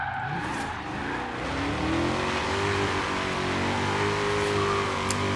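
Shelby GT350R engine in Forza Horizon 3 revs hard as the clutch is kicked while drifting, a loud, rising, rasping howl held steadily with tires squealing underneath, no voices over it.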